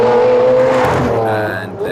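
A Lamborghini Aventador supercar engine roars loudly up close, a sustained high whine that surges and then drops away as revs fall.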